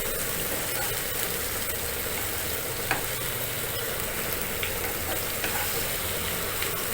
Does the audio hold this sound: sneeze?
no